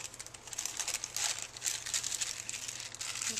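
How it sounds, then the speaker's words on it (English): A plastic bag being straightened out by hand gives soft, close crinkling and rustling in irregular bursts, quiet and on its own. "basically what you want to do is you want to straighten out your plastic bag."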